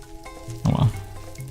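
A sheep in the Minecraft video game gives a single short, close bleat that rises briefly over a quiet game background.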